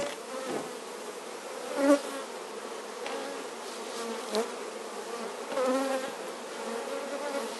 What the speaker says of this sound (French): on va vraiment avoir une ruche, enfin un corps de ruche vraiment chargé d'abeilles